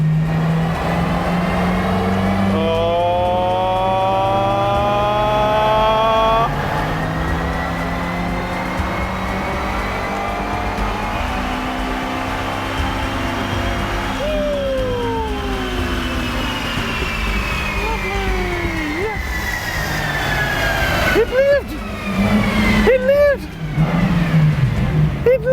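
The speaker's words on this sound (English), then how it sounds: "My Ferrari made a glorious noise and managed not to explode" A Ferrari engine pulls hard in fourth gear, its rising tone sweeping up through long climbs of revs. A shift or lift comes near the middle and more sharp revving follows near the end, loud and close, with some talk over it.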